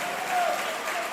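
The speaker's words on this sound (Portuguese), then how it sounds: "Pode continuar aplaudindo, é para Ele." A church congregation claps together in a steady, dense burst of applause that fills the room for about a second.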